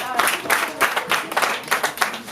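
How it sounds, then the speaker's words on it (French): A congregation at a church gathering during a visit to an orphanage in Abomey-Calavi claps in a brief burst of scattered, fairly close applause. "Applaudissez pour le Seigneur, s'il vous plaît."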